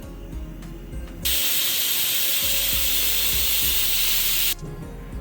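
A pressure cooker releases steam in a loud, steady hiss lasting about three seconds, then cuts off abruptly. Quieter kitchen clatter sits underneath before and after the release.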